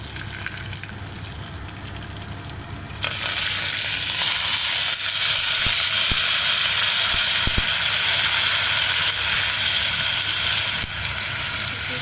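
Onion, tomato, curry leaves and garlic frying in a pan for pappu charu, a loud, steady hiss of sizzling oil that jumps louder partway through and stays dense to the end.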